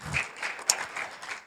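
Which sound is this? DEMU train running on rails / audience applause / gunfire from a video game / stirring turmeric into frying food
audience applause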